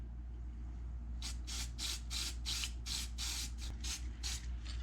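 Gasket adhesive sprays onto a vintage garden tractor carburetor gasket in about ten short, crisp hissing bursts in quick succession, close by over a low background hum.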